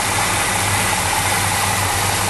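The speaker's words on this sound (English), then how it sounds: "So here's the engine running." A 1979 International Scout II engine idles steadily, a loud, close, even rumble with a regular low throb and no talk.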